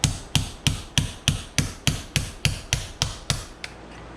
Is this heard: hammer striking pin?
yes